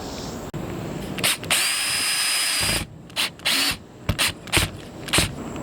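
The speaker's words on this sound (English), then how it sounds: "So now that you have all your screws in" A power drill drives screws into a Maxx Air fan bracket during a van build, with a long steady whirring run followed by several short, loud bursts of drilling separated by pauses.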